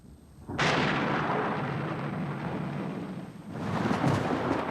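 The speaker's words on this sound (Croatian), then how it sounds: "Čuješ li grmljavinu?" A long, deep rumble of thunder from an approaching storm rolls in suddenly and lingers, swelling again toward the end with no voices.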